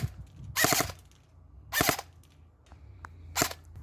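An airsoft rifle fires three separate short bursts of rapid shots, each a tight cluster of sharp snapping cracks with quiet gaps between, close and fairly loud with no talking.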